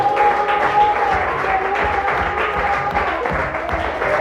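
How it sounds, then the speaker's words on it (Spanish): Congregation applauding at a church service, steady clapping mixed with voices and cheers throughout, moderately loud and continuous. "Dale un aplauso a Dios porque Dios es bueno"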